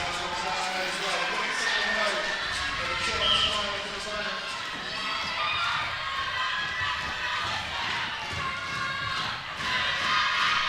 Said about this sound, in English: the crowd's starting to get into it now